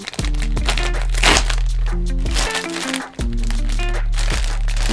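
A mail package is torn open, its cellophane bag crinkling and crackling in repeated bursts over steady background music.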